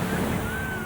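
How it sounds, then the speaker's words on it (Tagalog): Strong sea waves crash and wash steadily along a beach, a continuous loud roar of surf with wind noise on the microphone. "Medyo malakas yung alon."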